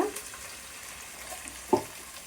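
Onions sautéing in a pan, a faint low sizzle with a single clear stirring clink near the end.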